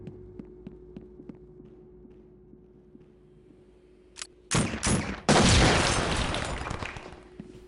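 Quiet ticking gives way to sudden bursts of gunfire, then a long loud sustained volley of rapid shots with a booming tail, in SWAT 4.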